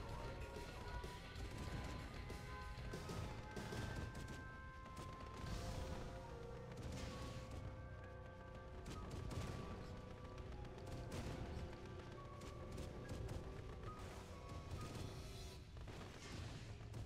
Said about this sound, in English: Warning, nuclear missile launched.